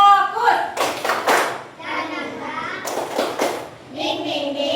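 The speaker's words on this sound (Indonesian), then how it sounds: "Tepuk fokus." A classroom of children doing the tepuk fokus rhythmic clapping routine, bursts of clapping alternating with chanted voices in a patterned beat, loud and close.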